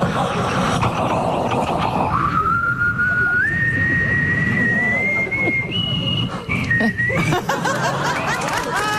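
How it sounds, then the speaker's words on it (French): A thin, high whistle rises in steps and holds pitch for several seconds, with soft chuckling and murmurs around it. "C'est le bébé qui sifflait."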